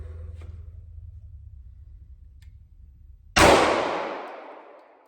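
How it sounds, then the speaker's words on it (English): A single loud shot from a Smith & Wesson M&P 2.0 Compact pistol at target practice, a sharp close blast with a long decaying tail, following a low steady background rumble. "Let me shoot one more mag and see how that does."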